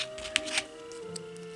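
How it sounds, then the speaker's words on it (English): Paper being creased and folded into an origami waterbomb Easter egg, a couple of soft crisp crinkles early on, then quiet close-up rustling. "fold this up on the crease, and then fold this point"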